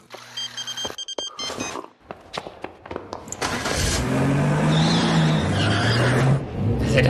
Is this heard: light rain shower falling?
no